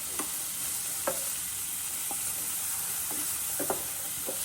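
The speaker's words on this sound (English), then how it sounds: "So I'm going to saute this up." Mushrooms sauteing in a pan give a steady, soft sizzle and hiss, broken by a few light clacks of stirring, heard close with no talking.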